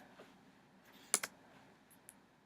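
Computer keyboard keys pressed on a Mac while deleting a total from an Excel spreadsheet cell: a quick double click of two close keystrokes, then one fainter tap, all alone in a quiet room.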